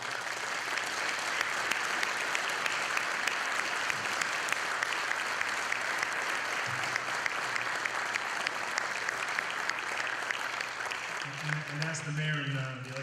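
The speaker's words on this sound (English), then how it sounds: "I'd like everyone to give him a good round of applause" Sustained applause from an audience at the City of Lynn's 2015 Veterans Day ceremony, steady and fairly distant, filling the hall for about twelve seconds before a voice begins to speak as it fades.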